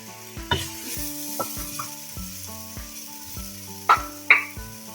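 Finely chopped cabbage, capsicum and carrot stir-fry in a hot pan for chicken stuffed buns, giving a soft continuous sizzle broken by a few sharper scrapes and stirs over quiet background music.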